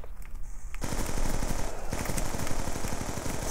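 Rapid automatic gunfire in the Black Ops 2 video game, a fast steady rattle of shots lasting several seconds after a brief quieter lead-in, loud and close with no talking.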